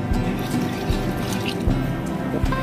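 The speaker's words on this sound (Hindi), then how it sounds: "अब इसमें डालेंगे स्टॉक वाटर।" Stock water poured into a hotel-style chilli chicken gravy masala in a pan, a steady liquid stream with dripping and bubbling throughout, close and continuous.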